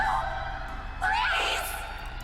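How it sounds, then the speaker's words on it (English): Startled shouts and gasps of alarm echo through a haunted house in The Letter horror game, a loud burst of several voices rising together after a quieter opening, with a reverberant, echoing tail. "All throughout the house, shouts of alarm and surprise ring out"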